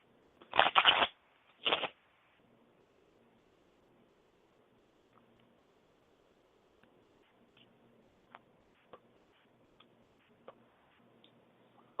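Two quick riffle bursts of playing cards being shuffled, the first about a second long and the second shorter, crisp and close, followed by near silence with a few faint ticks.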